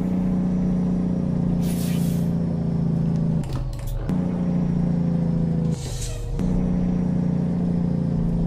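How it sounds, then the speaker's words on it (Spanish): A Kenworth T680 diesel truck rumbles steadily with a constant engine drone, broken by two sharp hissing bursts of air brakes a couple of seconds apart, close and fairly loud with no one speaking. "Vamos a pegar freno desde aquí"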